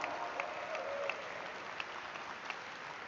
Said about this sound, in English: Keep the applause going, keep the energy going, ladies and gentlemen.